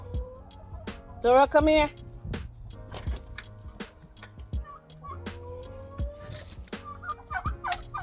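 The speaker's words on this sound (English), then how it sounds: "I'm going to let the chickens out." Backyard chickens and a gobbling turkey call as the coop opens on a mild December morning in Massachusetts, with a loud burst of gobbling early, scattered clucks and door knocks, and a person speaking briefly.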